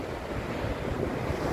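Sea waves wash onto the shore at Vila do Conde, a soft, continuous surf with a faint wind rush at low volume.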